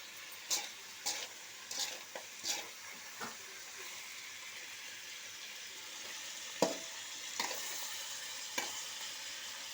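Chicken stir-fried in oil, with a steady sizzle and hiss and several sharp clatters of a utensil against the pan, heard alone with no talk.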